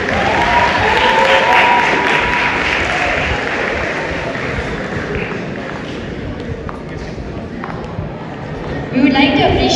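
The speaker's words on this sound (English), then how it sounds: "A big round of applause for our volunteers." A crowd at a Model UN closing ceremony claps steadily and loudly for several seconds, a dense wash of applause that tapers slightly toward the end.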